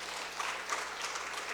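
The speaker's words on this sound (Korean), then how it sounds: "우리 박수 한번 해주십시오" A church congregation applauding during a Sunday service, a dense, even wash of many hands clapping at moderate distance, steady for a short burst without voices standing out.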